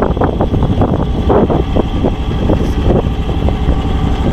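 A John Deere x724 tractor fitted with a John Deere 54-inch snow blower runs continuously, a loud, close engine drone with a churning blower roar.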